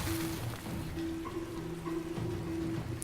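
Steady rain hiss from a rain scroll cast in the video game Divinity: Original Sin II, a continuous even wash with a low sustained tone running beneath it throughout.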